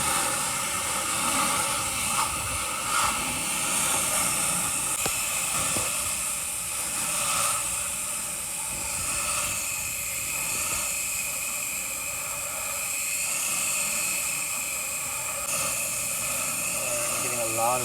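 A pressure washer sprays a heavily soiled shed in a steady, loud hiss of water under pressure that runs without a break, with a machine droning underneath.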